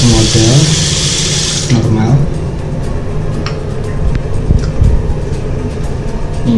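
Water runs from a tap in a hotel bathroom in Bali: a strong, close hiss for the first couple of seconds, then it drops to a quieter steady flow with small clatters.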